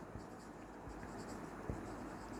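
Marker or chalk scratches across a board during a physics lesson on kinematics, soft steady strokes with a few sharper taps, set against a continuous background hum and no speech.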